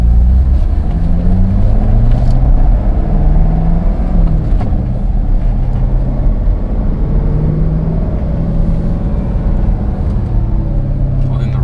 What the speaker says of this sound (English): we're gonna go ahead and just like drive the car around, see how it drives and stuff